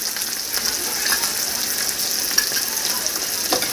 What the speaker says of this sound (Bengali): দিয়ে এগুলো আমি মিক্স করে ভেজে নেব